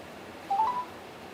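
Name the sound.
telephone beep before voicemail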